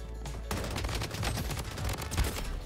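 Rapid gunfire from the mobile shooter Bloodstrike, a dense run of shots over about three seconds, loud and continuous with bursts layered close together and no talk.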